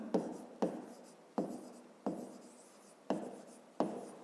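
A pen or pencil writes numbers for a fifth-grade maths exercise, making six soft, evenly spaced scratching strokes, each one a short scrape that fades, close and quiet, with no talking.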